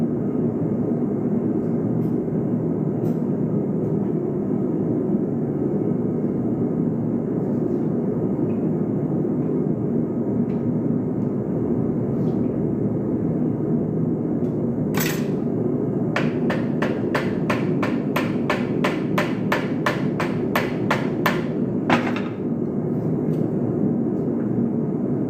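Gentle hammer taps on a metal piece ring out in a quick steady series partway through, light metallic ticks over a constant loud background rumble.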